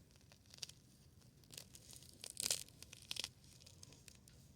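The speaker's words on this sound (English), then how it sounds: "Let me set this here again and tear apart some moss." Moss being torn apart by hand for a gnome garden gives soft, close, irregular ripping and crinkling bursts, a few louder tears in the middle, quiet otherwise with no talking.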